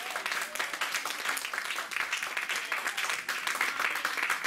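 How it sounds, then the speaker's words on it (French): A church congregation applauds continuously, a dense, steady crackle of many hands clapping that stays loud and even throughout, with no pauses. "Acclamons le Seigneur."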